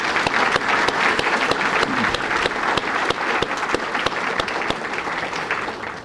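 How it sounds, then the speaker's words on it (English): A conference audience at a space development gathering applauds, a loud, sustained clatter of many hands with crisp nearby claps punctuating it from start to finish. "Let's just give a big round of applause for a great morning."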